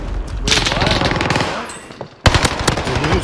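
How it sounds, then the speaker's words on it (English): Video game gunfire, bursts of automatic weapon shots crackling in quick succession, with voices talking over the shooting and a sharp loud burst near the end. "Did you get shot at, Sean?"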